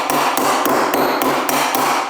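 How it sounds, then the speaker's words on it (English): A Snap-on panel beating hammer strikes metal bodywork during a car restoration: seven sharp, evenly spaced metallic blows close to the microphone, with no talking. "This is my favourite hammer. It's a snap-on hammer. Most of my panel beating hammers are snap-on hammers."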